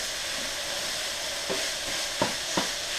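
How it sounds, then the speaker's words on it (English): Ground turkey browning in a pan at medium heat for lettuce wraps, a soft continuous sizzle broken by a few distinct stirring scrapes near the end, close up and without speech. "I'm going to give that a quick stir"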